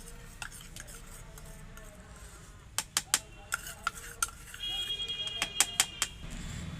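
Semolina cake batter with baking powder is whisked in a bowl, producing quiet stirring and then a series of crisp metallic clinks against the bowl's side, close and sharp, with some faint background noise.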